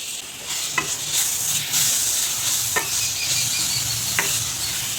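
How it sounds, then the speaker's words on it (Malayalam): A spice paste for rasam sautés in a hot pan with a steady, loud sizzle. A spoon stirs it and scrapes the pan a few times throughout. "ഒരു 2 മിനിറ്റ് നേരം ഒന്ന് വഴറ്റിയതിന് ശേഷം അരപ്പിട്ട് കൊടുക്കാൻ മതി."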